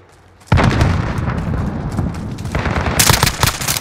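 Loud gunfire and a grenade blast from Call of Duty Modern Warfare: a sudden burst opens a dense, continuous rattle of rapid shots and booms, with a sharper crackling flurry of fire near the end.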